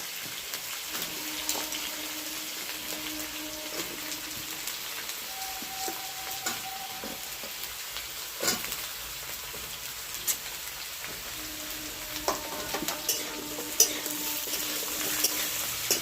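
Potato and drumstick pieces fry in hot oil in a pan as chopped, washed brinjal goes in. A continuous crackling sizzle runs throughout, with scattered louder pops and no talking.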